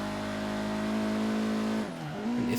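A 2016 Honda Civic Type R engine in Forza Horizon 3 screams at high revs near 7,000 RPM, then briefly drops and climbs again as it shifts, loud and close.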